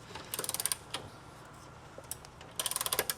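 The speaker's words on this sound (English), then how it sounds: "I want to go ahead and try to tighten this nut down a little bit more" Wrench or ratchet tightening a nut on a car body, heard as bursts of rapid metallic clicks at the start and end, with a couple of isolated clanks between.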